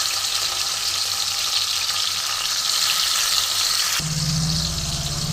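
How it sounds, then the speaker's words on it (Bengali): Tomato frying in oil with cardamom and cinnamon for chicken curry, a steady loud sizzle throughout, with a sudden louder, deeper burst of crackling near the end as the fresh tomato hits the hot oil. "টমেটোটা একটু ভাজা হবে এবং ভাজার সাথে নরমও হবে"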